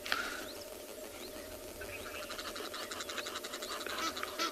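Birds calling repeatedly on a South African safari, a steady run of honking, goose-like cries with the rhythmic calls growing busier and louder toward the end over a dense natural background.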